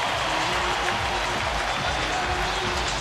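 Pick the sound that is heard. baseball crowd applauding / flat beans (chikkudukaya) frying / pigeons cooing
baseball crowd applauding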